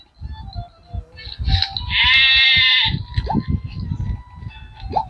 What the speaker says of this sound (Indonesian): Kambing guys, kambing. Sheep.